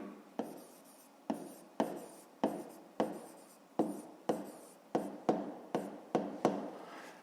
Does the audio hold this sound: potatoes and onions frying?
no